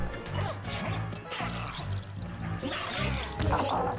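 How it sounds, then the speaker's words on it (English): A water gun sprays in the Luigi's Mansion video game, with repeated splashing, gushing bursts and a low pulsing rumble beneath, moderately loud throughout. "Maybe I just gotta dodge the water gun."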